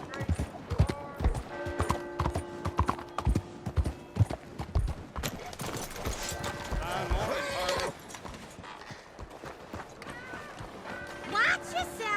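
Horse hooves clip-clop in a steady galloping rhythm in Red Dead Redemption 2, with tack jingling and occasional snorts, while voices talk over the ride and music plays faintly underneath.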